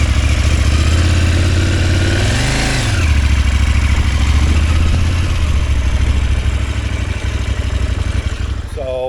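A KTM 790 Adventure S motorcycle engine runs close by, idling with a loud low rumble, a short rev that rises and falls in pitch partway through, then settling back to a steady idle.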